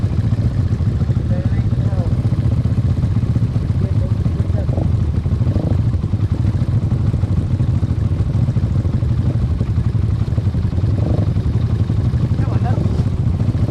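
A motorcycle engine drones steadily and loudly as the bike works its way along a rough, difficult trail, with some clattering throughout and voices occasionally heard over the noise.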